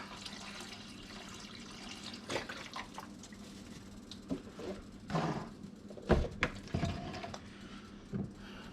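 Broth being poured into a pot of Hungarian mushroom soup, a soft trickling, splashing stream that builds into louder glugs and drips, fairly quiet and with no talking.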